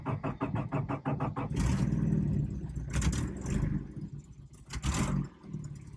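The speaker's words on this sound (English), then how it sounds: "that was a cold start." A Toyota 22R four-cylinder engine cold-starts with a quick cranking chatter, then catches and runs with a rough, uneven idle and a couple of louder revs, heard close with no talking.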